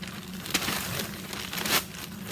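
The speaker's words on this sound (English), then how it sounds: "So what we're going to do is we're going to crumble paper." Paper being crumpled for a small brown paper bag, close and crisp crinkling throughout with two sharper crunches standing out, no voices.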